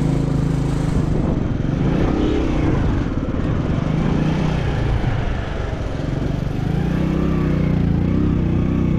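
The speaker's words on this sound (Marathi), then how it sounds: "माझी गाडी फुर करते" A car engine drones steadily while driving a mountain road on a pilgrimage route toward Badrinath, a continuous loud low rumble with slight swells in pitch throughout.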